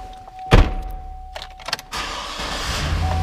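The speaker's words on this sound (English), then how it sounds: "Truck starts right up." A used Chevrolet Silverado pickup truck starts up, with a chime and a heavy thunk, then a short crank and the engine catching into a steady, close idle.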